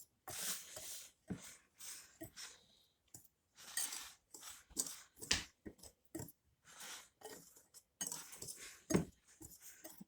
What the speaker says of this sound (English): And we can mix that all together and get it incorporated